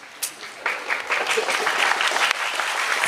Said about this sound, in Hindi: ताली कौन बजा रहा है?